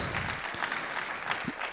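Applause at a networking event at the Westin Bayshore, a moderate, fairly steady patter of clapping from a room of guests, with a few stray voices mixed in.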